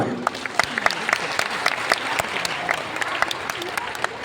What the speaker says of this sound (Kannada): ಪುರುಷರು ಚಪ್ಪಾಳೆ ಕೊಡಿ